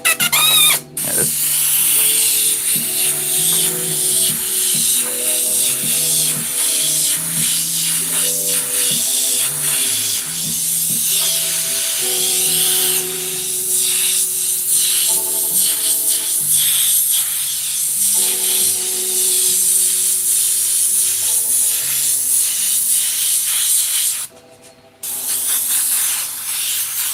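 An airbrush sprays paint with a continuous close hiss that runs for almost the whole stretch, pausing briefly near the end, while soft tonal background sounds play underneath.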